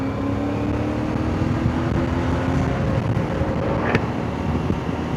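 Ibex 450 motorcycle engine heard while riding, a steady low drone with wind rushing over the microphone and windscreen throughout, loud and continuous with no talk.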